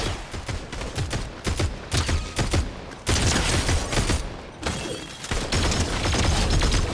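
Rapid automatic gunfire in a Fortnite Battle Royale match, dense bursts of shots firing almost continuously for several seconds with brief dips, loud and close.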